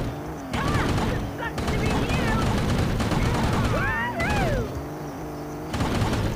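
The Scorcher weapon firing in Gangstar Vegas fills the scene with loud, continuous rattling gunfire and crashes, along with warbling electronic whines and a voice heard under the din.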